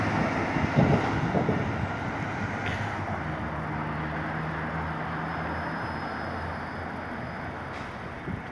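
Steady wind buffets the microphone with a low, continuous rumble and hiss outdoors in Santa Monica during the Thomas Fire, with a faint hum in the background.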